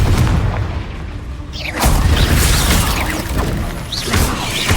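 Blasting spell explosion in the Hogwarts Legacy video game: a deep boom erupts into a dense rumble of crackling debris, loud and close, with smaller bursts following and no voices.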